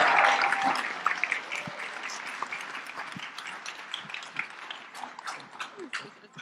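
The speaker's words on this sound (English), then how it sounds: "Give him a round of applause." Audience round of applause at a leadership institute demo day, loud at first, then thinning into scattered individual claps and taps as it fades, with some voices mixed in.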